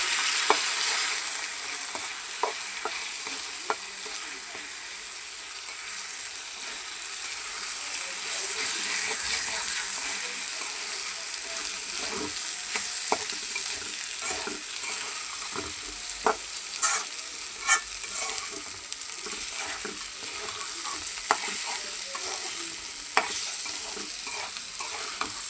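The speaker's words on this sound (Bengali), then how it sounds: "এই যে চালটা আবার ভালো করে ভাজা হয়ে গেছে" Rice being fried and stirred in a pot while making chicken pilau, a steady close sizzle with scraping and clacking stir strokes throughout, no talking.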